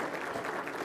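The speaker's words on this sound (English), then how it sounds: "Nice round of applause for our football players." A crowd claps for the football players at a Youngstown State scholarship and ring banquet. It is a short, dense, steady burst of applause filling the room.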